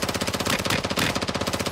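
Rapid automatic gunfire from the Warzone 2 video game rattles out in a fast, evenly spaced burst, loud and continuous throughout.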